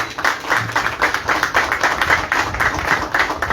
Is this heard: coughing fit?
no